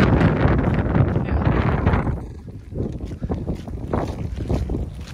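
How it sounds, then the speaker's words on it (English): Strong coastal wind at Weymouth in winter buffets the microphone in a loud, continuous roar that eases partway through into gustier, uneven bursts. "This is not that bad, it's just a bit windy, occasionally wet"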